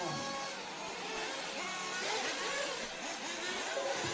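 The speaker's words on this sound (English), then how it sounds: "There's a lot of nitro noise around me at the moment." Nitro RC buggy engines buzz and whine at a race track during qualifying and finals, a steady dense layer of high-pitched revving from several small motors at mid distance, with no voices.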